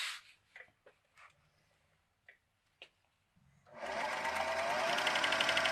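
A sewing machine stitches the side seam of a fabric grocery bag, starting after a few quiet handling taps and then running as a steady, close, loud whir to the end.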